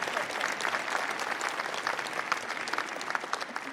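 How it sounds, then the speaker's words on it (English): Steady, dense applause from a congregation at a church service, a continuous wash of many hands clapping at moderate loudness for the whole stretch, with no voices over it. "Let's give them a round of applause again"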